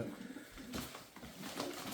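Soft, low cooing from pigeons, muffled and fairly faint, repeated over a hushed outdoor background.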